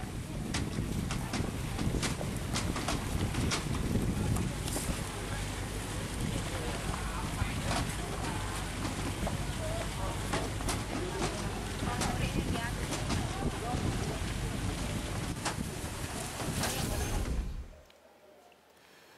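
A ferry carrying holiday travellers in Gresik rumbles with steady engine noise and wind buffeting for most of the clip, then cuts off abruptly near the end.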